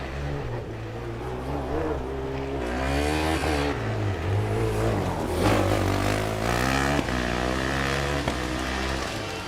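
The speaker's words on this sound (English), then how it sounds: "I hear an engine starting and people cheering on" A Formula Student race car engine starting and revving hard at a Formula Student Germany endurance event, with rising and falling engine tones and crowd noise mixed in, loud and close throughout.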